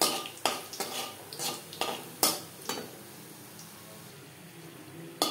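Dry red chili and whole cumin seeds go into hot refined oil for tempering, giving a soft background sizzle with several sharp clinks and taps of a spoon against the pan, heard close up with no talking.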